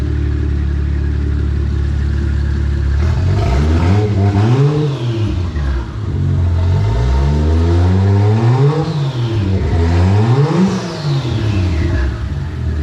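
A Toyota Aristo JZS147 engine revs up and settles again in three rising and falling sweeps, loud and close, with a steady idle running between them.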